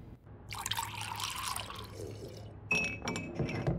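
A shot of tequila poured into a glass, with liquid trickling and dripping and a sharper glass clink near the end, close and fairly quiet.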